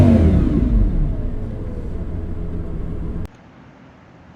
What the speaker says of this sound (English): when you open up the V10 engine, you get that unmistakable V10 sound